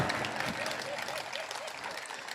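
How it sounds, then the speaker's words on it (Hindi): Audience applause at a Hindi poetry recital by Hariom Pawar; a short burst of scattered clapping from the crowd, moderately loud and fairly dense. "आप खुल के ताली बजा सकते हो, अब क्या डर है आपको?"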